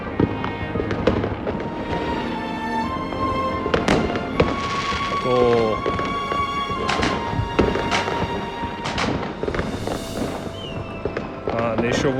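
New Year's Eve fireworks over Ohrid, recorded from a drone, with repeated bangs and crackling bursts scattered through a continuous background din, some sharp pops standing out loud and others distant.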